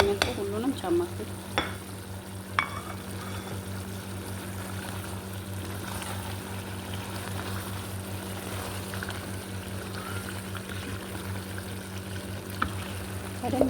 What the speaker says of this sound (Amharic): ለትንሽ ደቂቃ ከቅመሙ ጋር በዚህ መልኩ አበስለዋለሁኝ።